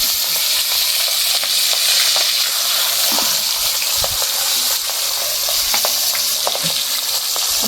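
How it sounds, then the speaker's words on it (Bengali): Pieces of rupchanda fish, including the heads, fry in hot white oil in a wok with a loud, unbroken sizzle and crackle, broken by occasional spatters and utensil taps, close up and with no voices. "তেল গরম হয়ে গেছে, একে একে মাছগুলো দিয়ে ভেজে নেব।"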